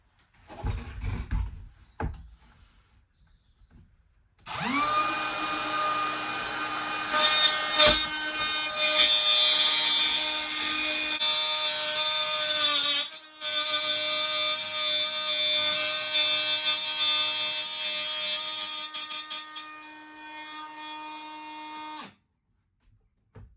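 A power tool plunge-cuts a walnut slab, spinning up to a loud sustained whine with a brief dip midway before winding down and stopping, after a few handling knocks.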